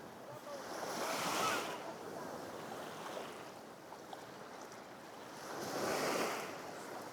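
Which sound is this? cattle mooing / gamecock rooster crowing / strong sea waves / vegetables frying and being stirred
strong sea waves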